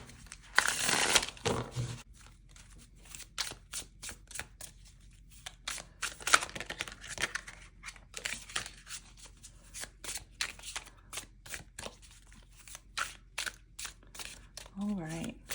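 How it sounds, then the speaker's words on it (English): Tarot cards are shuffled in a series of quick riffling bursts and soft rubbing strokes, fairly quiet and close, with a few short pauses between shuffles. "So let me get all shuffled up and ready."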